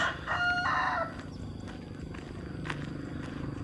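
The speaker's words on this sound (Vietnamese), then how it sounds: "Gà gáy." A rooster crows once, loud and close, at the start in rural Vietnamese rice-field countryside, followed by faint farmyard clucks and ambient outdoor noise.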